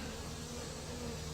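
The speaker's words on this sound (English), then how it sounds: "the nurse bees that you see on this frame here, they'll take care of those baby bees" Honey bees hum in a dense, steady buzz close by as a hive frame is lifted out for inspection, the sound faint and constant with no talking.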